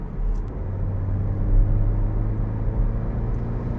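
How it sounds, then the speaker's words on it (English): Porsche 718 cruising on the road, a steady loud low rumble of tyre and ground noise blended with a continuous engine roar heard from inside the cabin, with no talking. "this car has quite a bit of ground noise accompanied with the roaring sound."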